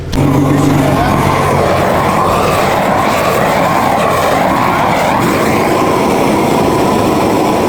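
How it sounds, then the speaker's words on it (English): A Honda Civic racing a nitrous Sentra at night, a loud, continuous high-revving engine roar with rising and falling pitch, close and dominant throughout. "racing his Civic versus, I think it's a Nitro Sentra"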